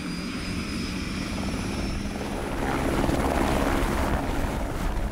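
An aircraft flying over the Cotentin peninsula, likely a helicopter from the Cherbourg airport, gives a steady close rotor and engine drone that swells slightly louder toward the end.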